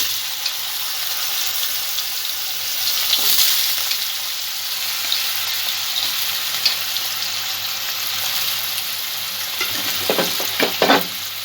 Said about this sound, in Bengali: আলুগুলো একটু ভেজে নেব প্রথমে।